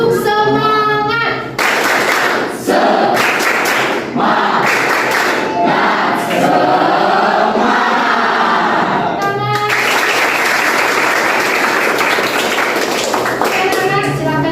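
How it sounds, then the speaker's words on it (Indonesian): Classroom students standing up for the tepuk semangat chant, rhythmic bursts of group clapping alternating with loud shouted chant lines, with a teacher's voice leading between rounds in a lively, echoing room. "Coba dulu kita tepuk semangat dulu, semuanya berdiri."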